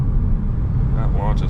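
Tesla Model 3 Performance launching hard from a stop for a quarter-mile run: a loud, steady low road and drivetrain rumble with rising whine, heard from inside the car throughout.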